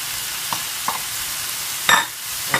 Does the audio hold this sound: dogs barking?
no